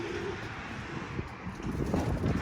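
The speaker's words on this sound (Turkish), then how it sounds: "Anormal fırtına var, rüzgar var." Strong stormy wind buffets the microphone in a steady, broad rumble, gusting louder toward the end, with faint hints of birds somewhere in the background.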